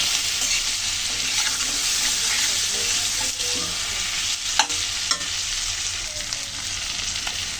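Potatoes and prawns fry together in a pan with a steady loud sizzle, broken by a few sharp clinks of a spatula being stirred through.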